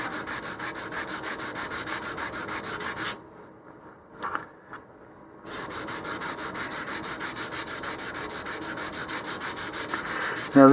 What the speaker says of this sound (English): we're going to sand these with the grain before we even take them out.